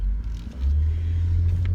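Inside a moving car, a steady low engine and road rumble fills the cabin, loud and continuous, rising slightly in strength after a brief dip, with no voices.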